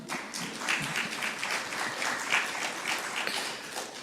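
Conference audience applauding at a Tobago economic and business outlook event, a steady dense wash of many hands clapping throughout, moderately loud and fairly distant, without talk.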